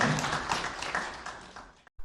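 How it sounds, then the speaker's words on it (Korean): Brief church congregation applause during a Wednesday worship service, a short wash of clapping that cuts off abruptly near the end. "우리 박수로 하나님께 영광을 드리겠습니다."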